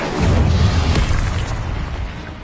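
A fire spell cast in Hogwarts Legacy bursts out as a loud, close whoosh of flame with a deep rumbling body, peaking early and slowly fading over a couple of seconds.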